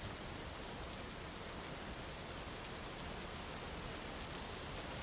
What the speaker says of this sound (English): Rain continues beyond the windows